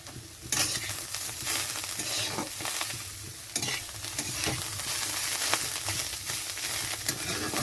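Cauliflower leaves with bori and soft potato stir-fry in a hot pan, a continuous close sizzle punctuated by repeated scraping stirs of a spatula, with no voices.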